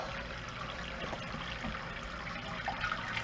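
Water drains and trickles out of a mash and boil brew basket as it is lifted from the wort, a continuous close splashing stream at steady volume.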